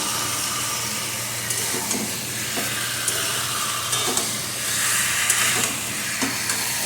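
Chicken stirred and sizzling in a pan, a steady hissing fry with scraping stir strokes throughout, close and fairly loud with no talk.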